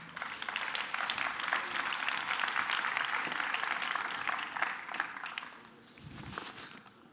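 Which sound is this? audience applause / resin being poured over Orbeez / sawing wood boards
audience applause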